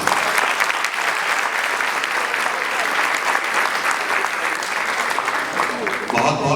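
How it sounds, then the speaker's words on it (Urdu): Audience at a Pakistan Independence Day literary event in Houston, Texas, applauding loudly and continuously, a dense even wash of clapping from start to finish. "ایک دفعہ زور تالیاں سے بولنا چاہیے"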